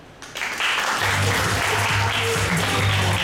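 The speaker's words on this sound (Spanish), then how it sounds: "A ver, aplauso para Alondra." Kids and adults at a children's party game with a clown break into lively clapping for a girl named Alondra, loud and continuous after a brief quiet start, with a low hum underneath.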